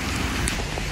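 Heavy rain pours down in a constant, loud wash of noise. The short stretch holds no audible speech.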